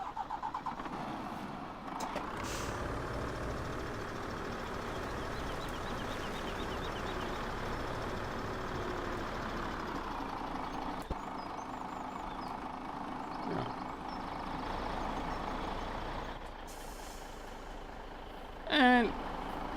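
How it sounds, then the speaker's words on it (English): Truck in Farming Simulator 17 on the Sosnovka map, engine running steadily throughout with a sustained game-engine drone, a brief beep near the end, no talk. "I'll have to move this truck out of the way."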